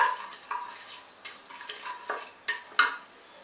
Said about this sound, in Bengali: তেজপাতা আর এই চিনিটা দিয়ে দিলাম, চিনিটা দিচ্ছি ক্যারামেলাইজড হওয়ার জন্য,